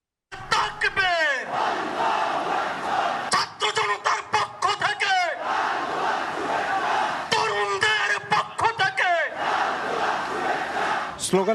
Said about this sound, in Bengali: স্লোগানে মুখরিত কুমিল্লার 14 গ্রাম পাইলট উচ্চ বিদ্যালয় মাঠ